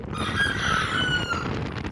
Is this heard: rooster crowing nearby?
yes